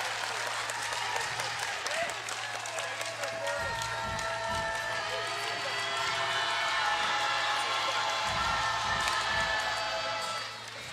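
A basketball arena crowd at a FIBA 3x3 World Tour game in Utsunomiya cheers and claps steadily, a broad roar of applause and whoops with courtside commentary over it.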